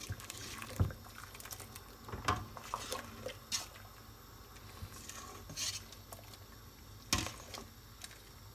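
Harira soup being stirred in a pot, with soft scraping and liquid swishes plus a few sharper clinks of the spoon against the pot, fairly faint and intermittent over a low background hum.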